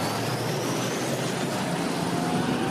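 A Dodge Caravan fitted with a helicopter turbine engine screams down a drag strip on full boost, a loud, steady, high-pitched jet whine.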